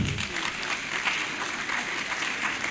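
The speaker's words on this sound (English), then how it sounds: "please, a round of applause for them" Applause from a live hackathon event audience, a steady patter of many hands clapping together at moderate volume for a few seconds, no talking.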